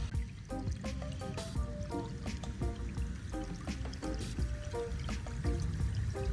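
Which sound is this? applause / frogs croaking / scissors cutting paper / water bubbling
water bubbling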